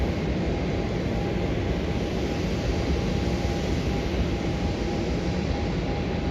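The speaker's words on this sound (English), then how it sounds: "there's quite a few domestic flights that are landing shortly" Planes landing at Melbourne Airport, heard as a steady, loud, broadband roar of jet engines that holds evenly throughout without any talking.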